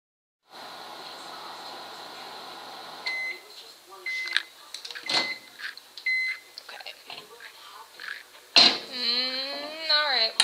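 A microwave oven heats a pair of microwaveable slippers, its steady hum broken by door clunks and sharp electronic beeps, with a person talking close by throughout.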